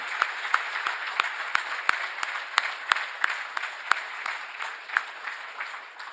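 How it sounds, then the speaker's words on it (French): An audience at an announcement about modernising the Isle-Maligne power station applauds, with sharp individual claps standing out over a thinner crowd patter, tapering off toward the end. "Je voudrais qu'on les applaudisse"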